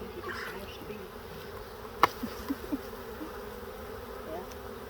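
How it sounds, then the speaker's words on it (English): A swarm of wild honeybees being collected from under a hive produces a steady, close insect drone, broken by a single sharp crack and a few soft knocks. "these bees are not mad at all"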